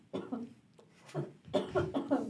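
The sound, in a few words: cough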